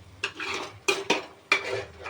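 Ginger garlic paste being sautéed in a pan for a dhaba-style paneer curry, with three sharp scraping stirs of a spoon against the pot over a faint frying hiss.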